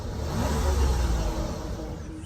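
A 3-litre V6 engine in an Alfa Romeo 166 at a car meet revs steadily and loudly at close range, a continuous low mechanical roar with no one speaking.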